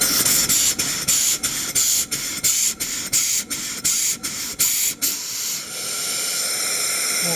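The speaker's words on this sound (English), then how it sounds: "Blow-down valve right here." Loud, steady steam hiss from the blow-down valve of a new mill steam engine with a 3- to 4-inch bore, broken into rapid rhythmic pulses for about five seconds before settling into a continuous rushing jet.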